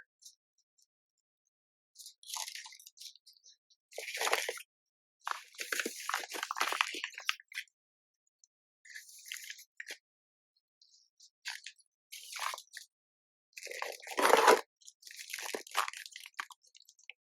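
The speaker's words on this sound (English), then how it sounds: "These are definitely a chewy type snack." Repeated close-up bites and chewing with a crunchy, squishy texture, coming in bursts separated by short silences.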